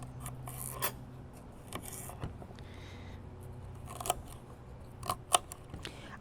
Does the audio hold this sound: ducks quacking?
no